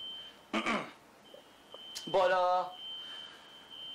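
A fire alarm sounds a steady, piercing high tone that runs unbroken through the whole stretch, while a person talks over it in short bursts.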